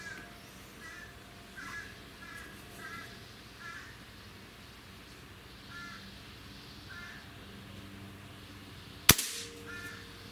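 A Gamo Urban .22 PCP air rifle fires once, a single sharp, fairly quiet crack following a long stretch of outdoor ambience with crows cawing in the distance.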